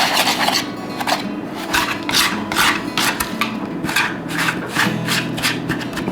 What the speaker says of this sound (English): I'll take a whisk and we'll start to get this all put together here